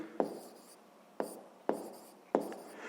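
Pen writing maths figures on paper during a sixth-grade exercise: four short, crisp scratchy strokes, each a sharp tap fading into a brief scrape, close and quiet with no talk.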